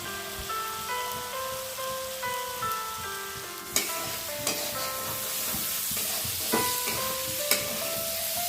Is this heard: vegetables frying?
yes